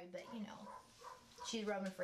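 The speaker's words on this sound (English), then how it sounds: "that is my neighbor's dog." A neighbor's dog outdoors gives a few faint, distant barks and yips beneath a person talking nearby.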